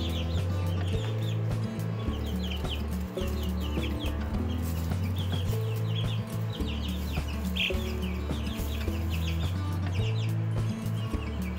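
Young chickens of larger breeds cluck and chirp steadily inside a coop, many birds overlapping close by over a low continuous hum, with no talking.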